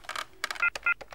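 Telephone dialing tones play through a speakerphone in a comedy scene, a quick run of crisp beeps of varying length in an uneven rhythm, fairly quiet.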